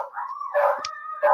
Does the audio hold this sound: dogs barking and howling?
yes